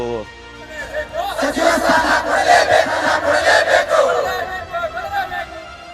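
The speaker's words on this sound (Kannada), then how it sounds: "100 ಮಂದಿ ಅಲ್ಪಸಂಖ್ಯಾತ ಮುಖಂಡರು ಜಮೀರ್ಗೆ ಜೈಕಾರ ಕೂಗಿದ್ರು" Crowd of protesting supporters loudly chanting slogans in praise of Zameer, a dense roar of massed voices rising after the first second and staying steady, close and forceful throughout.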